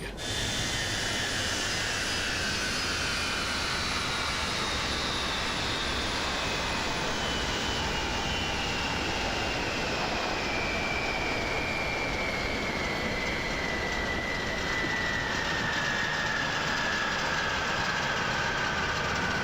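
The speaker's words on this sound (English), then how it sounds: "Let's go ahead and shut down our aircraft right now" Trijet engines of a FlightSim Studio 727-200F cargo aircraft winding down after fuel cutoff in MSFS 2024, a loud steady roar with a slowly falling whine that continues throughout.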